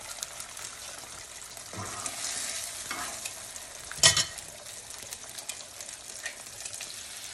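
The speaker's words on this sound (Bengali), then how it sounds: "এখন একটু ডিম ভেজে নিব।" An egg fries in a pan, giving a low, steady sizzle with a sharp burst of hissing and spattering partway through, followed by quieter sizzling.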